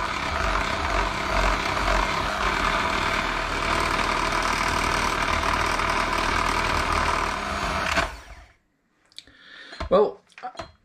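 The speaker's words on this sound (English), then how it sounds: "I'm now going to try and thicken it a bit more with the whisk." A whisk beating cheesecake mixture in a bowl, a steady, dense, continuous whirring and churning that runs loud and close for about eight seconds, then stops abruptly, followed by a few soft clinks and knocks.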